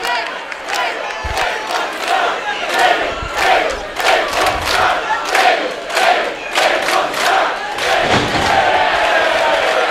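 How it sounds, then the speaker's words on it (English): A wrestling arena crowd during a David Starr versus Jordan Devlin match mixes loud booing with cheers, in rhythmic swelling chants and shouts. Occasional ring thuds punch through the constant roar. "Booing the camel clutch of Jordan Devlin. But it's being countered by cheers as well from sections of this crowd."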